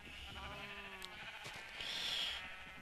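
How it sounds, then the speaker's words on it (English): Sheep in Minecraft give a couple of wavering bleats, fairly close and moderately loud over a soft background, with no talking. "and then my sheep"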